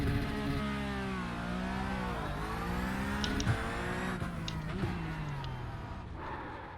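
A race car engine in a racing simulator revs on a practice standing start using the clutch pedal: a steady, sustained engine drone with rising and dipping pitch as it revs and pulls away, moderately loud and continuous.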